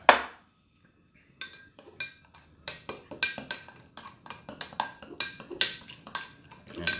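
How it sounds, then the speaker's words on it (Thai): A spoon stirs cocoa powder into water in a cup, giving a quick run of light metallic clinks and scrapes against the sides that follows one sharp tap and a short pause. Close and clear, with no talking. "คนให้ละลายไปเลยนะครับ"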